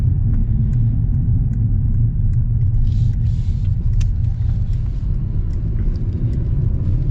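A new Mercedes CLE coupe with a 9-speed gearbox setting off and driving, heard from the cabin as a steady loud low rumble of engine and road noise throughout.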